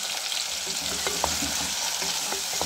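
Tomatoes and green chilies fry in a pan with a constant hiss and crackle, broken by light scraping stirs, with no voices.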